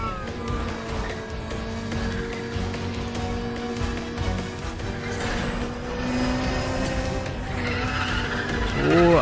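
Car skidding and drifting in the racing video game Need for Speed: The Run, loud continuous tire squeal over a roaring engine, with no talk.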